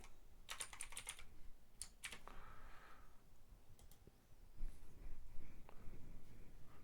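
Fingers tap on a computer keyboard in quick bursts of clicky keystrokes, close and fairly quiet, with short pauses between runs and a faint room background.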